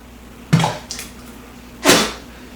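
Mead being poured into an ale horn mug, two short splashy bursts of liquid close by, the second longer and louder, with a faint clink between them and no talking.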